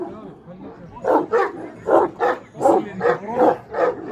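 Anatolian shepherd dogs bark in a rapid run of about seven loud, evenly spaced barks at a dog show, starting after a quieter opening second.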